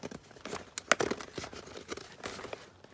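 A blade slicing through thick mountboard at a desk, close and crisp, with a run of tearing, crinkling scrapes and one sharper snap near the start, no talking.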